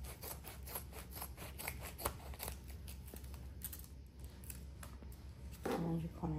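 Scissors cut through the fabric of an in-the-hoop embroidered bag, making a series of crisp, closely spaced snips, fairly faint and even in rhythm, with a brief louder handling sound near the end.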